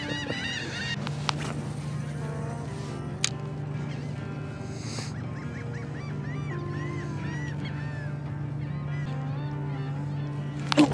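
Seagulls call repeatedly around a fishing spot near manmade islands off Corpus Christi, Texas, with a series of squawks over a constant low engine hum.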